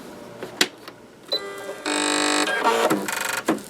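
A sewing machine runs quilting lines through fabric for a pot pincher, giving a steady mechanical whir in a couple of short bursts between handling clicks, up close and with no talk.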